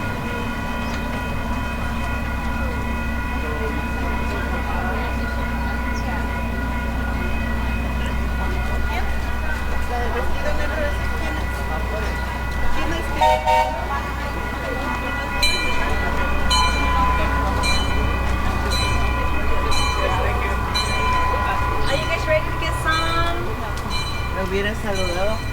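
A tourist plantation train on Oʻahu, Hawaii idles nearby with a steady low rumble and mechanical hum, brief hissing and clanking bursts, while people talk in the background.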